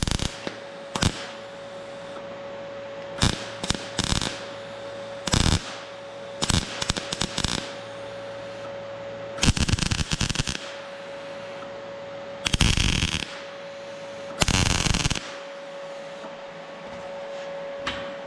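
Tack welding on thin air-cooled VW sheet metal tinware, heard as a series of short, loud crackling bursts of uneven length separated by pauses, with a steady hum running underneath.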